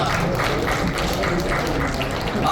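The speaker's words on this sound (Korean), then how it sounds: "물레동 박수 부탁드리겠습니다" Audience at a live talk concert commemorating Park Chung-hee applauds steadily, a dense, even wash of clapping with no clear pauses.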